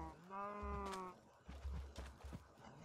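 Cattle lowing in the Minecraft video game, a drawn-out moo with stacked harmonics followed by shorter low calls and thumps, moderately loud and close, with no talk over it.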